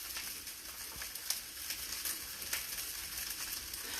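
Chicken fried rice sizzling as it is stirred in a pan: a faint, continuous crackling hiss with brief scraping ticks scattered throughout.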